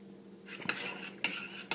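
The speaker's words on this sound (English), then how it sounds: "Next step, you stir your milk." A utensil stirring milk clinks against a cup or bowl in three quick metallic strikes with a soft scraping swirl between them, close and fairly quiet, with no talk.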